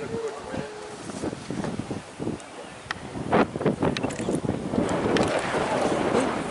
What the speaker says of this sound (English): He's coming, but the wind almost took my head. I think it's the wind.